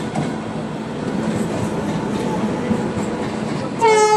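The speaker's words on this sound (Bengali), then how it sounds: "চারিদিকে সব ট্রেন যাচ্ছে" Trains roll past at the busy Dum Dum Junction, a continuous loud rumble and clatter of wheels and carriages, ending in a sharp, close horn blast in the final moment.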